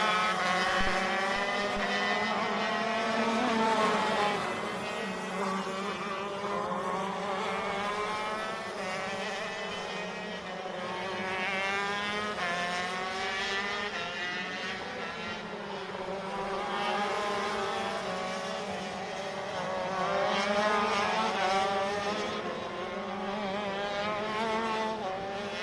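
Several 125 ROK Shifter Limited karts race at Sonoma, their high-revving two-stroke engines whining loudly and continuously, with pitch rising and falling as they pass close by through corners.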